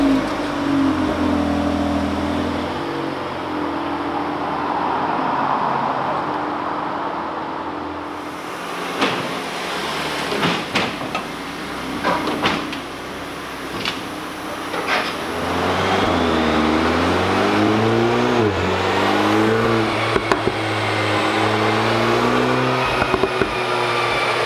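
VW Golf R Mk8, stock with an OPF, run on a dyno: after a quiet start, clunks and knocks give way to the engine firing up and revving in rising, falling sweeps, loud and close, with no talk.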